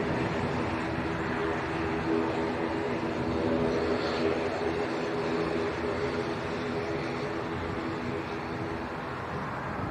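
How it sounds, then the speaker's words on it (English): Aer Lingus ATR 72 turboprop bound for Dublin gives a steady, moderately loud propeller drone that holds evenly throughout, with no talk. "this is Aer Lingus to Dublin, ATR 72"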